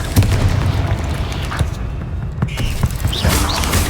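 A fiery blast spell from Hogwarts Legacy goes off in game combat, a loud boom with bursting pops and a rumbling low tail set in a dense mix of battle sounds.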